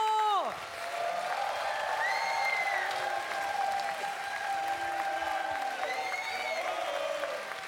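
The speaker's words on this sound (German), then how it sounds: "Einen großen Applaus." A studio audience at the ZDF Fernsehgarten TV show applauds steadily for several seconds, a dense wash of clapping with a few whoops, heard after a brief spoken line.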